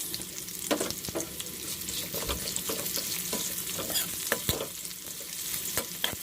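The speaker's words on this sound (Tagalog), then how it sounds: "antayin lang natin na bumango ang ating bawang na medyo brown. Ilagay na rin natin yung ating" Garlic and onion sautéing in a pan give a continuous close sizzle, with repeated scraping strokes of a spatula stirring throughout and no talking.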